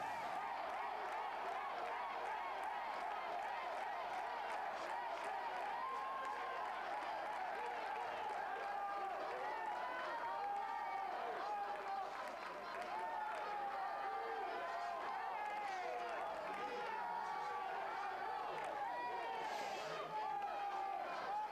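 Dense, distant crowd noise at a kyokushin karate tournament in Bucharest, with Polish and Spanish supporters chanting, cheering and clapping steadily throughout, under a commentator's voice speaking fairly continuously.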